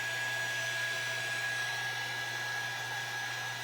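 A hair dryer blows steadily and close by, drying a piece of fabric, with a constant whirring hum and a high whine holding unchanged from start to finish.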